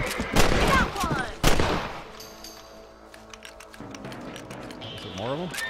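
Gunfire at rabbits in the Red Dead Redemption game: two sharp, loud bursts of shots close together, then quieter ambience with game sounds and a voice talking over it.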